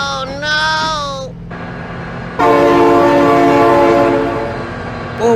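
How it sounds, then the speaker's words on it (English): A train horn blows loud and sustained as the train passes close by, rumbling steadily beneath the blast, with a brief excited voice near the start. "Oh my god, train!"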